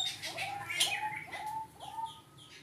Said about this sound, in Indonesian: Nah ini jalak Bali satu pasang teman-teman.